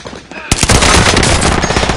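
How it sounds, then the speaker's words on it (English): Sustained, loud machine gun fire in a multiplayer battle video game, opening with a sharp burst and continuing as a dense, rapid rattle of shots, close and overwhelming, with game voice lines faintly underneath. "We're taking fire."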